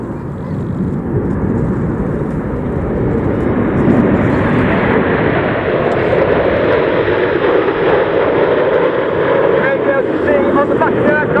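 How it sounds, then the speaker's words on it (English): The Vixen jet aircraft at the Royal Air Force Cosford airshow roars loudly and continuously overhead, with wind buffeting the microphone and an announcer's voice partly buried beneath the engine noise. "get your cameras ready for the colourful and noisy Big Vixen"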